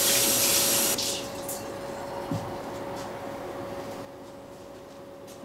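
Tap water runs onto unwaxed kitchen twine before trussing a turkey: a loud, close gush for about a second, then a steadier, softer trickle that continues throughout.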